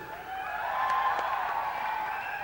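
Faint applause from a gathering at Jain University in Bangalore before a swimming clinic, a soft, even patter of clapping lasting a couple of seconds.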